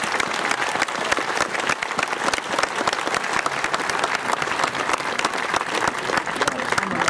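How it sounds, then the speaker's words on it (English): A large audience applauds at a high school graduation ceremony, with dense, steady clapping that carries on loudly and evenly for the full stretch, filling the hall without any break. "Can we once again give them a great round of applause?"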